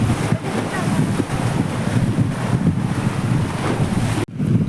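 Cold wind gusts across a beach, roaring steadily into the microphone as broadband buffeting, with a brief drop near the end.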